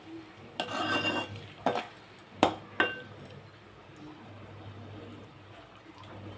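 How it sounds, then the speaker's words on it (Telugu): Bottle gourd curry ingredients frying in a pan, with a soft sizzle underneath a few sharp utensil clinks and stirring scrapes, fairly close and moderately quiet. "ఒక 5 నిమిషాలు వేగనిద్దాం."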